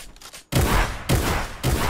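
Rapid gunfire in Fortnite, three loud bursts of shots about half a second apart after a brief quieter stretch, sharp and close with dense rattling tails.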